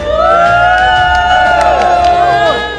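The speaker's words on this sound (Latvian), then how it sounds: "šis pūlis, kas man ir aizmugurē, tie ir mūsu pirmkursnieki" A large crowd of first-year college students cheers and whoops at an outdoor graduation ceremony, a dense continuous roar of voices with shouts rising over it throughout, loud and close.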